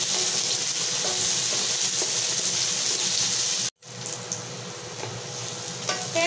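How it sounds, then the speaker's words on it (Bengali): Raw mango pieces fry with lightly roasted spices in a pan, giving a steady, loud sizzle throughout, broken by one very brief gap and then a slightly livelier crackle. "হালকা ভাজা মশলার সাথে এগুলো ভেজে নিচ্ছি,"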